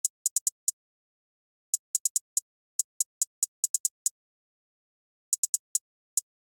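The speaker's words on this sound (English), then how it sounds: "Simple hi-hat with some triplets and a lot of space." Sparse programmed hi-hat pattern with triplet rolls in FL Studio, crisp short ticks in small bursts separated by wide gaps of silence, bouncy rhythm with nothing else playing.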